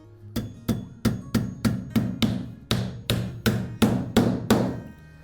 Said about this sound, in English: we're going to take our roofing nails, nail this